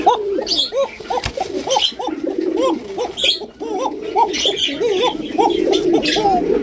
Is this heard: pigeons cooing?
yes